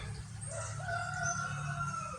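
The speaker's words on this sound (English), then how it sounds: "the rooster hears me and he starts crowing" A rooster crows in the background, a drawn-out crow that is moderately distant and heard without any talk.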